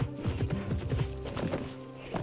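Rhythmic hoof clip-clops from a horse in the Alexandra Ledermann riding game, moderately loud over a background music bed, with a soft whinny-like tone at times.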